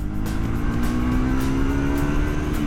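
2024 Triumph Scrambler 400 X engine pulling in sixth gear, a loud steady drone whose pitch climbs slowly and smoothly, with wind rush, no voices.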